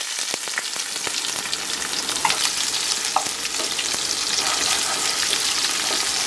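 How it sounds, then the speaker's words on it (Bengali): Bay leaf, onion, whole cumin and dried chilli fry together in a mix of oil and mustard oil, giving a loud, steady close-up sizzle with occasional stirring clicks and no voices. "আর এই ফোড়ন, তেজপাতা, পেঁয়াজ, গোটা জিরে, শুকনো লঙ্কা সব একসাথে"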